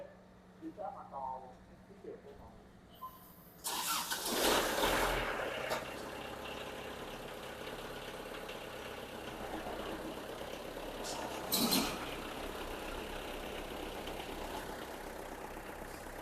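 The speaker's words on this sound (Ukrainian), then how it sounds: "Тепер пропоную завести трактори і покататися." Japanese Kubota X24 and GT-5 compact tractors crank and start, then settle into a steady, even idle that runs on for over ten seconds, with a second engine roaring up partway through and someone speaking briefly beforehand.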